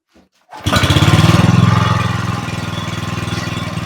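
A short pull on a starter cord, then the small engine of a homemade generator sputters to life and settles into a loud, rapid putter close by.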